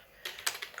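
Computer keyboard typing as a German sentence is entered, with several crisp key clicks in an uneven rhythm, close and clear with no talking.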